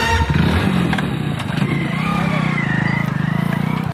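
A motorcycle engine idles steadily and close by, a continuous low throbbing rumble that holds the whole time and drops away abruptly at the end, with no one talking.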